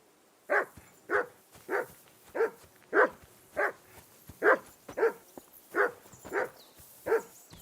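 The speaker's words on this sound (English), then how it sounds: "Henry, call that dog to heel." A dog barks in Kingdom Come: Deliverance II, about a dozen single woofs spaced in an even rhythm, fairly close and alone against a quiet background.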